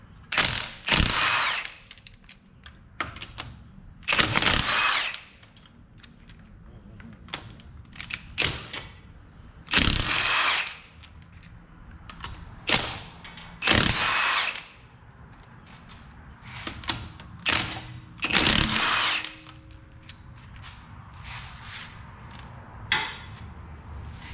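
An impact wrench or ratchet loosens 19 mm aftermarket lug nuts on a Ford Flex front wheel, giving loud, repeated bursts of mechanical whirring with pauses between nuts and faint clinks in between, with no talk.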